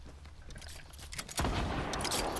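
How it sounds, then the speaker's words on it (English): A minigun fires in the Fortnite video game, a dense rattling stream of shots that grows louder and fuller about halfway through and continues to the end. "you want to see my minigun?"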